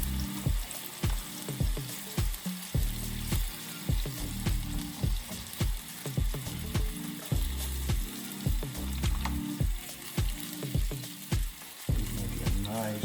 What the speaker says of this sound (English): Then we're gonna let that cook and brown really nice